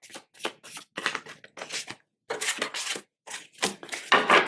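Tarot cards are drawn from a deck and laid down in a series of short, crisp papery slides and taps, each separated by brief silences, close and distinct.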